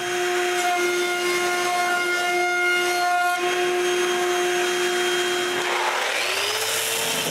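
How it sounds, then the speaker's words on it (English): A router cuts a round-over profile along wooden edging on a bandsaw base, a loud continuous high-pitched whine with steady tonal hum that winds down near the end. "Then, I route a round over on the edging."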